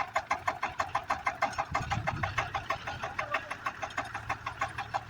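A DI tractor's diesel engine runs while the tractor is stuck in a village pond, giving a rapid, rhythmic chugging thump that stays close and steady throughout.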